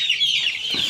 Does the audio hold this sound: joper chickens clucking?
yes